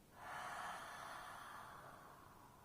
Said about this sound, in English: Do one more big, full breath in. Audible, open mouth exhale.